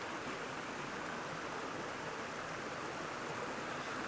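A small creek about forty minutes outside Brisbane flows steadily, a soft continuous broadband rush of running water with no voices.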